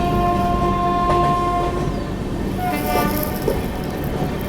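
A Duronto Express passes Khurda Road Junction in Odisha with loud, sustained horn blasts over a heavy rolling rumble of wheels and carriages, the horn tones breaking off and returning partway through.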